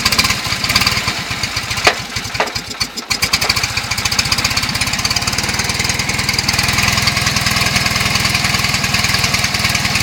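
A Fiat 500 engine runs steadily while warming up, a loud continuous buzzing idle with a brief stumble early on, then an even rhythm throughout.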